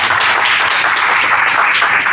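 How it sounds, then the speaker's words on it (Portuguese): A crowd at a game jam award ceremony in Rio de Janeiro bursts into loud, dense applause for a named honoree, a short close wash of clapping. "Salve de palmas a Maurício Hirata Filho"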